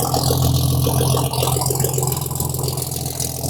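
A 1946 Chevy truck fitted with a bolt-on exhaust kit from Amazon idles in a garage, heard from behind at the tailpipe: a steady, loud, low rumbling putter with an even pulse and slight rattle.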